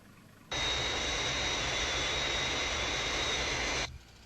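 The Fireflash airliner on approach to a runway gives a steady, broad jet roar that starts abruptly, holds at even loudness for about three seconds and then cuts off sharply, with no talk over it.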